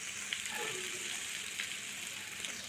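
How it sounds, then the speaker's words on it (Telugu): Mutton spleen frying in a pan, a steady close sizzle and crackle of hot oil with a few brief spikes of spattering, heard alone without talk. "ఇది కొంచెం ఫ్రై అవ్వాలి."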